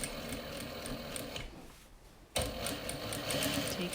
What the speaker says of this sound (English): I'm just back stitching so that it doesn't come off